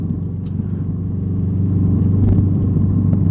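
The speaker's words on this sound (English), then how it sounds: "I feel like the motor's bogging a little bit. I'm gonna downshift into third." A manual car's engine drones low and steady just after a downshift into third gear, holding a constant rumble that swells slightly in loudness, with no talk over it.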